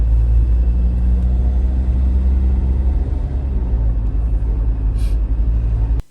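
A Tata SUV diesel engine idles after a Liqui Moly diesel purge, a loud, steady low rumble heard up close before it cuts off abruptly.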